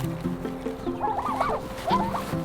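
Farm turkeys calling nearby: a run of clucks and short rising gobble-like calls over a low steady background hum, moderately loud, no talk.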